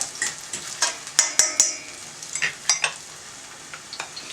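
Big, chunky codfish fritters sizzle in a frying pan while a utensil scrapes and clinks against the pan in a quick series of close, sharp knocks over steady frying hiss.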